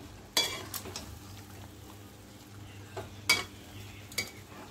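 Chicken and onion frying in a kadhai, with a soft steady sizzle and a few sharp scraping stirs of a spatula against the metal, close and quiet, with no talking.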